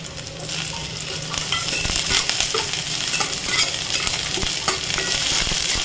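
Onion sautéing in ghee with pepper and cloves for ghee rice, a continuous close sizzle broken by scraping stir strokes in the pan, with no talking.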